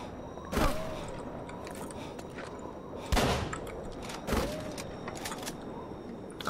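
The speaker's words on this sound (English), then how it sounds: "Please stop shooting me." Gunfire in Call of Cthulhu: Dark Corners of the Earth, with three sharp shots spaced apart over a steady low ambient bed, fairly close and loud.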